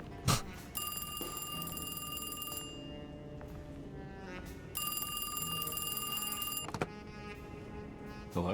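An old-fashioned telephone bell rings in two long bursts in the horror video game Alone in the Dark, loud and close with a pause between rings and a dark game ambience underneath.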